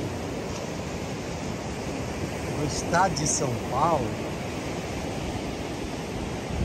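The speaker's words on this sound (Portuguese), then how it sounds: "Agora, o mar em si, ó" Sea waves at Praia da Baleia beach in São Paulo state make a steady, continuous roar of surf, with someone speaking over it.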